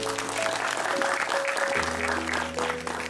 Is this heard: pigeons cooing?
no